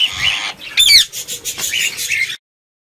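A pet parrot gives bright, shrill chirps and squawks close by, repeated in quick bursts, with a short flurry that may be wing flapping, before the sound cuts off to silence.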